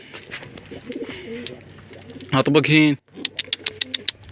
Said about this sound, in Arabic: نفتح لكم الطواير شوي